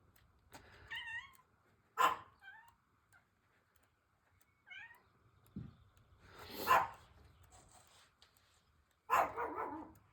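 A guard dog barks a few times indoors, in short sharp bursts spread out and separated by quiet, mixed with faint meow-like cries.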